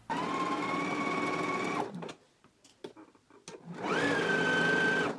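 Serger stitching down a pocket on knit fabric with a 3/8 inch seam allowance, a loud whirring run that stops for a moment of handling clicks, then starts up again.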